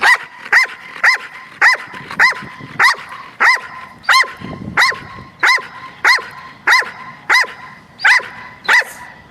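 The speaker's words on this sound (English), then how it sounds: "we start with barking at a toy." Trained dogs bark on cue at a ball toy in a steady, evenly spaced series of about fifteen loud, close barks, sharp and repeated without talk.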